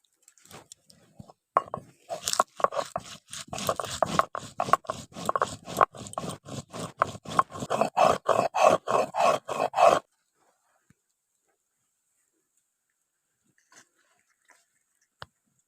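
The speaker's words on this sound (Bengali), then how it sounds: "এই লঙ্কাগুলো এখন আলাদা করে বেটে নিচ্ছে" Dried red chillies are ground on a grinding stone with rhythmic, close scraping strokes, about twenty in quick succession for ten seconds. A few faint knocks follow in near silence.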